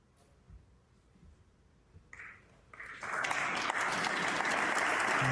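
Snooker crowd at the 2023 Northern Ireland Open semi-final applauding a safety shot, quiet at first, then clapping swells and holds as a full, sustained round of applause.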